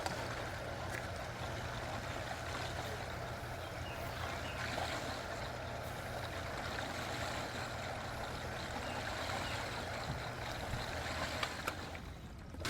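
An Aquastrong 2HP dual speed pool pump runs steadily while priming, giving a constant low hum with a rushing, watery wash layered over it, with no talk.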